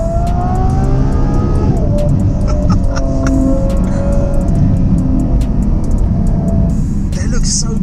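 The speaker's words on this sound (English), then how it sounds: "There's the Turbo S." A Porsche 911 Turbo S drives past with a steady, loud engine drone and shifting pitch as it moves, with a person talking over it.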